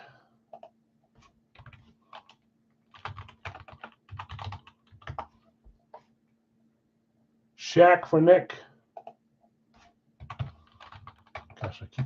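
Computer keyboard typing in light bursts of clicks during a live sports card break, with someone talking over and between the keystrokes.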